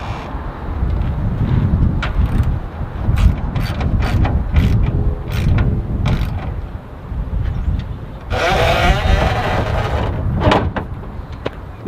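Ratchet clicking in bursts while tightening bolts from underneath the hood of a John Deere LT160 lawn mower, close and fairly loud, with other clanks and handling noises and no talk.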